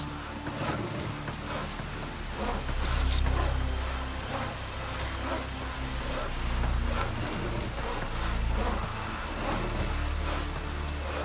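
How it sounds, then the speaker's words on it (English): Steady rain patters and hisses across surfaces in The Witcher 3, with a low rumble swelling underneath now and then, constant and fairly quiet throughout. "It's raining."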